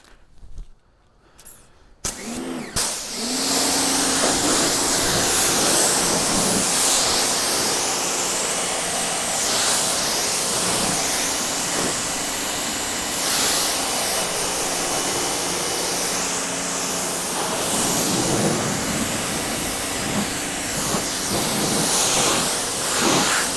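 A pressure spray of water rinses a car during a wash, a loud continuous hissing spray that begins after a short pause and keeps up close by, shifting in intensity as the stream moves across the panels.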